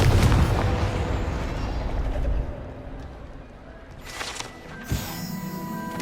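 A Confringo fire spell explodes in Hogwarts Legacy: a loud, close booming blast with a rumbling tail that fades over a couple of seconds, followed by a second burst and crackling effects.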